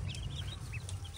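A hen clucks softly while moving about with a brood of chicks on a rural Indian farm, short repeated chirpy calls over a steady low background hum, close by and fairly quiet, with no talking.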